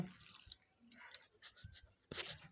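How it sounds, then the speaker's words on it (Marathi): Splashing and dripping as bitter gourds are rubbed and rinsed in salted water, in irregular bursts with short quiet gaps, up close. "आणि हे कारले स्वच्छ असे धुवून घेऊ"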